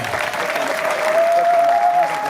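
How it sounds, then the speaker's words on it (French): A crowd applauds at the official installation of a new mayor in Loandjili, Republic of Congo, a brief burst of dense, even clapping with a thin sustained tone running beneath it. "Sous vos applaudissements, mesdames et messieurs."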